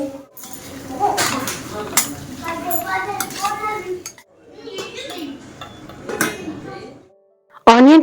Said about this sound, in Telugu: ఇప్పుడు ఇందులోని పొటాటో పీసెస్ యాడ్ చేసుకోవాలి